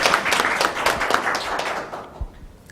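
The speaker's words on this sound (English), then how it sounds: "Give him a hand. Let's cheer him on." An audience claps for a speaker at an iSTEP logo unveiling: dense, close applause that runs steadily, then thins and fades out in its final second.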